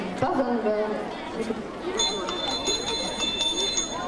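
A school bell rings out over a chattering crowd for the first lesson of the school year on 1 September 1993, with its sharp metallic ringing layered above murmuring voices.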